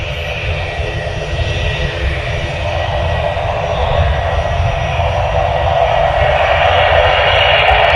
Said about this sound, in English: There's one Loganair lands. Here's another one coming up the taxiway.